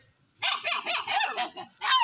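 Rottweiler puppy and other dogs bark in rapid, yappy, overlapping bursts close by, starting after a brief quiet moment, with no speech.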